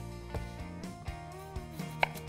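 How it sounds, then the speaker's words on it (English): A knife slicing a potato lengthwise on a cutting board, trimming off the round edges before dicing: a few crisp, separate cutting knocks with a sharper click near the end, close and fairly quiet, with no voices. "I'm going to grab my potato, and I'm going to slice it lengthwise into a cube"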